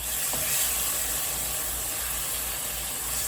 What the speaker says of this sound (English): sautéing a little minced garlic